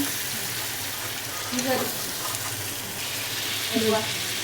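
Chicken kosha frying in a pan with a little water just added, giving a continuous sizzling hiss with brief bubbling and stirring bursts, while someone speaks in the background.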